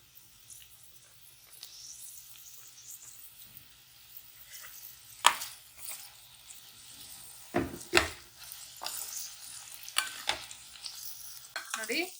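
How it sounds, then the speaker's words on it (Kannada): Five sliced medium onions fry in oil, giving a quiet, steady sizzle broken by several sharp scrapes and clatters as a spatula stirs the pan. "ಇದು ಎಣ್ಣೆನಲ್ಲಿ ಚೆನ್ನಾಗಿ ಫ್ರೈ ಮಾಡ್ಕೊಬೇಕು."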